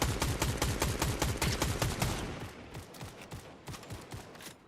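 Rapid automatic gunfire in a first-person shooter video game, a fast steady burst of close, loud shots that thins out and grows quieter near the end.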